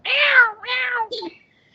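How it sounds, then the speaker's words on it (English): A cat lets out two clear, close meows in quick succession, followed by a short, fainter squeak, with no voices over it. "Can you hear the cat meowing?"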